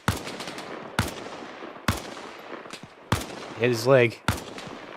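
Enemy gunfire from a hilltop in the Arma Reforger video game, heard as sharp distant single shots cracking roughly once a second, with a brief voice speaking in between.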